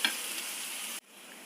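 Onions with a pinch of salt sauté in a pan, a dense, close sizzle that runs for about a second and then cuts off abruptly.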